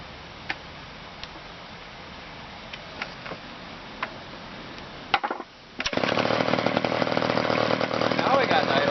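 Small engine starts up and runs with a steady buzzing drone after the idle screw is adjusted, close and fairly loud, following a stretch of faint clicks and ticks.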